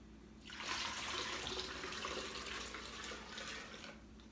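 Water poured steadily into a pitcher already holding lemon juice and sugar for homemade lemonade, a continuous splashing rush starting after a brief pause and running unbroken for about four seconds, close and alone.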